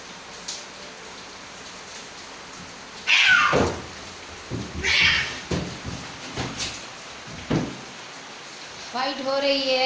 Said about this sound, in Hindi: देखे दो बिल्लियों की फाइट हो रही है, दोनों भाई बहन।